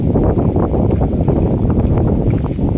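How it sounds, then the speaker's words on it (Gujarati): Strong wind blowing hard and continuously across an open outdoor spot, a loud, dense, buffeting rush that fills the whole stretch with no pauses. "પવન જાજો હોય એટલે અવાજ તો કેવડાવશે પવનનું"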